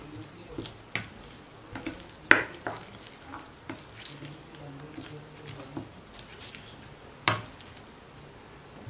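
A spoon stirs finely grated carrot in a hot pan with curry leaves, giving soft scraping strokes over a steady low sizzle and a few sharper knocks against the pan.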